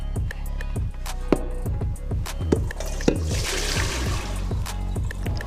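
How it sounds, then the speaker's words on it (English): Boiled potatoes sit draining in a colander in a kitchen sink, with water dripping and trickling in an irregular patter of close, distinct drops over a soft liquid wash. "we got the potatoes, they in the sink, they in the colander. Listen, it's drying, right? We're getting those to drip all of the water."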